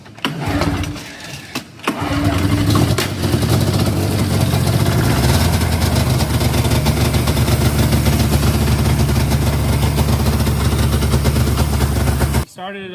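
A Polaris snowmobile engine cranks a few times, catches and then runs at a steady loud idle up close for about ten seconds before cutting off.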